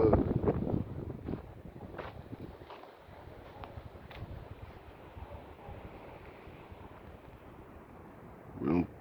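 Strong outdoor wind buffeting the microphone with a low continuous rumble and roaring gusts, loud at the start and end, while a person talks faintly.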